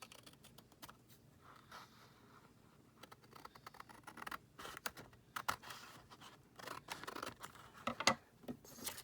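Scissors trim a paper cover for a junk journal, with soft irregular snips and paper rustling, growing louder and sharper toward the end.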